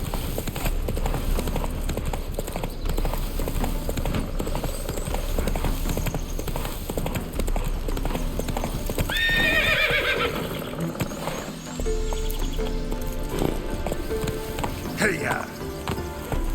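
Roach the horse gallops with rapid, steady hoofbeats and lets out a loud neigh midway in The Witcher 3, against a busy game soundscape, while a voice speaks over it.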